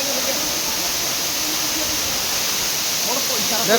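A hillside waterfall near a temple pours down in a loud, steady, broadband roar that holds throughout, with a voice speaking briefly near the end over it.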